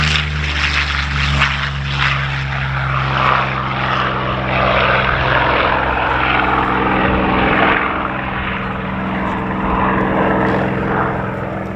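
Curtiss P-40 Warhawk, a World War II fighter, flying an aerobatic demonstration at the 2022 Geneseo air show, its propeller engine droning loud and steady with swelling passes throughout, no talk over it.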